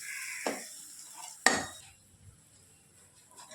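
Ground spice powder stirred into a chicken curry in a pan: two sharp scrapes of a utensil against the pan, with a soft sizzle in between that fades to quiet.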